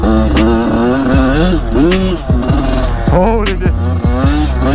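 A Yamaha YZ85 dirt bike engine revs hard and wavers up and down as the back wheel spins, loud and close, with a man exclaiming over it.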